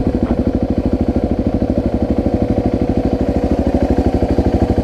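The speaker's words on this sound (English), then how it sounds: "It just happens to be the smallest bike on this trip" A small motorcycle engine, the smallest bike on a group road trip, runs steadily up close with a fast, even putter that holds throughout, with no talking over it.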